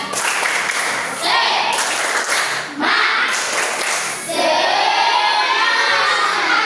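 A group of Indonesian schoolchildren in a classroom lesson on Pancasila perform the tepuk semangat clapping chant: loud, close bursts of shouted chanting and rhythmic hand claps in a few energetic blocks.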